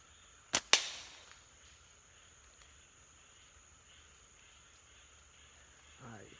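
A slingshot fires balls using a Hai style release: two sharp snapping cracks in quick succession near the start, then a quiet stretch with a steady faint insect-like whine in the background and a soft rustle at the end.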